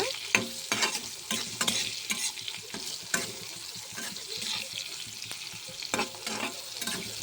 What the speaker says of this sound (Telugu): ఈ ఫ్రై అంతా కూడా మనకి హై ఫ్లేమ్లోనే ఫ్రై అవ్వాలండి